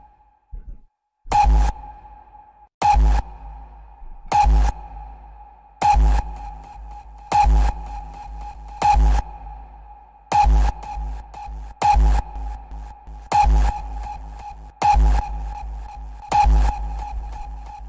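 A punchy hardstyle kick drum hits about every one and a half seconds, each thump trailing into a washy reverb tail with faint delayed repeats, no voices.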